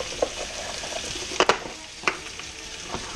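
Potato skins frying in butter in a pan give a soft, steady sizzle with a few sharp crackles and pops scattered through it, heard close and alone with no talking.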